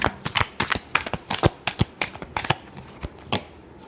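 A deck of tarot cards shuffled up close, producing a quick series of sharp papery flicks and snaps for a few seconds, heard alone without voices.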